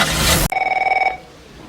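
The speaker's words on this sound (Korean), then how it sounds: "그날 밀스의 사무실로 전화가 걸려옵니다." A telephone rings indoors in an office scene from a crime thriller, a steady electronic double-tone trill lasting about half a second after an abrupt cut from louder sound, then stopping into quiet room tone.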